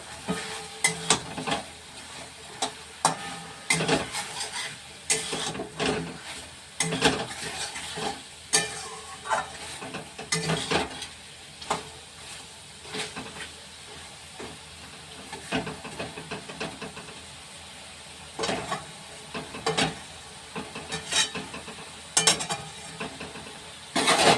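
Chicken korma sizzles in a pan as it is stirred, with steady frying hiss and frequent scraping strokes of a spoon against the pot at close range and no voices.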